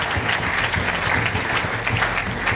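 A crowd at a French real-estate awards ceremony applauds five innovative property programmes, producing a steady, dense wash of clapping that holds an even level from start to finish.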